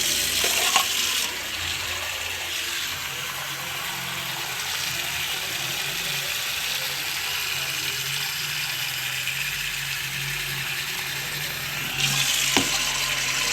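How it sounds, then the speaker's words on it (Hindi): Water from a tap runs into a kettle to cover sweet potatoes for boiling, a steady hissing pour lasting most of the clip, with brief clatter at the start and near the end. "अब आपने कैटल में इतना पानी लेना है कि ये शकरकंदी बिल्कुल तरह"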